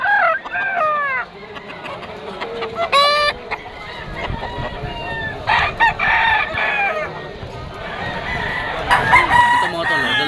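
A bullstag gamecock rooster crows loudly and close by, with several long crows plus clucking from other fowl around it and some outdoor background noise.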